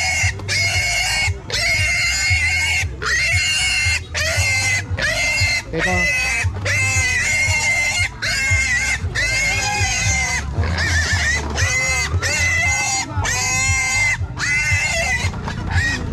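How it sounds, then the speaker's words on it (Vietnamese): A large pig at the Can Cau highland market in Simacai, held in the days before Tet, lets out repeated loud, strained squeals and grunts in quick succession while people talk nearby. "Ở kia có một con lợn to."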